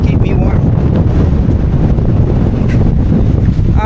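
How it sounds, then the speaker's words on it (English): Strong wind on a snowy mountain trail, Pen yr Ole Wen in winter, roaring and buffeting a close microphone in a loud, continuous rumble with no letup. "So windy."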